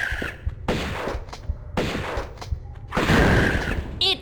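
Shotgun blasts from Tomb Raider Remastered on Nintendo Switch, several loud booming shots in an irregular burst, each with a sharp attack and short decay.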